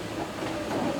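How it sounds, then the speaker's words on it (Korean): Rattling tractor-pulled tourist train rolling along through a ranch, a steady close, continuous rumble with rattling clatter and no talk. "덜컹덜컹 흔들리는 트랙터 열차, 목장 곳곳을 누비며 달려갑니다."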